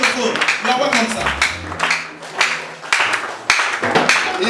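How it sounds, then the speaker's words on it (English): A church congregation at a prayer and praise night clapping for Jesus, a crowd's scattered applause mixed with loud talk over a microphone. "Can you clap for Jesus as the man of God take over the microphone?"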